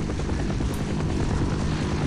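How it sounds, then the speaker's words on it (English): A video game helicopter with engine failure; its rotor and engine drone loudly and continuously with a rapid, chopping pulse, close by and alone. "What is going on with that helicopter? Listen to it."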